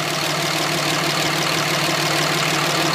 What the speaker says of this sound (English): pulling the oil filler when the engine is running will show you just how much pressure is there